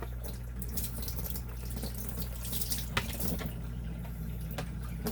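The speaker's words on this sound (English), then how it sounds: "I'm going to take this, rinse it off." Tap water runs steadily into a sink as an aquarium sponge filter is rinsed beneath it, a continuous close splashing wash with no talk.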